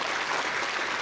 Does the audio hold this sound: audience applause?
yes